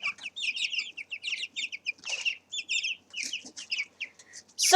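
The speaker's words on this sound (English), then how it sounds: "So you can hear that clucking if I pat them." Two-week-old chickens in a brooder, being patted by hand, give quick bursts of soft, high clucks and peeps close by, chattering in short clusters separated by brief silences.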